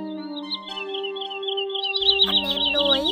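Call of a common greenshank from a clean recording. A sustained, piping tone sweeps and wavers, then sharper, louder notes break in over it toward the end.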